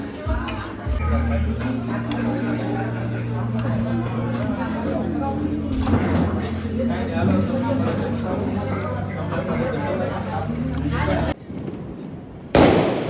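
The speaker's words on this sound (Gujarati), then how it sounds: "જો ને અમારે અહીંયા બહુ બધા ફટાકડા ફોડવા વાળા" Diwali firecrackers burst nearby at night in repeated crackling pops over a steady low engine-like drone, with voices chattering in the background, before a short quiet gap and a final loud bang.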